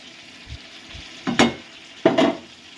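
Chicken kosha being stirred and sautéed in a pan, with two loud scraping stirs against a low sizzle and a couple of soft knocks before them.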